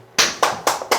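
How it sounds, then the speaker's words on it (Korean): Four sharp, evenly spaced hand claps ring out close and loud in quick succession, with brief quiet between them and no talk. "네, 박수 한번 치시죠."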